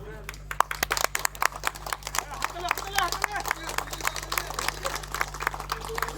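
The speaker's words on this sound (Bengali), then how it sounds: "সম্মানীয় প্রাক্তন বিধায়ক সাহেবের জন্য জোরে একটা হাততালি।" Applause at a cultural programme marking a 200th-anniversary Kali puja, a crowd clapping in dense, uneven rapid bursts over a low steady hum, with a voice talking over it.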